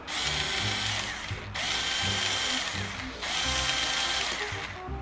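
A Tip Top BSD-042SE cordless drill whirs loudly in three bursts with brief pauses between, its motor whine and ratcheting gear noise close by.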